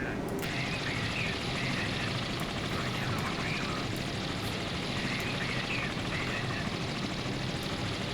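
Helicopter rotor and engine noise in the naval combat game Sea Power, a steady broadband drone that holds at the same level throughout, with no talk over it.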